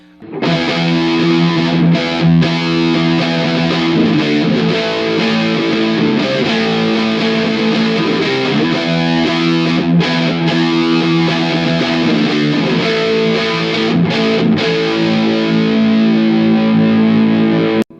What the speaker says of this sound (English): You can still hear that sort of swirling sweep from the chorus effect